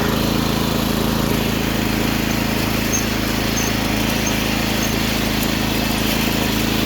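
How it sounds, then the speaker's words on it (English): A mini tractor engine revs steadily in second gear, loud and close, with a constant droning hum and no breaks for the whole stretch. "We're going to do a second gear takeoff here."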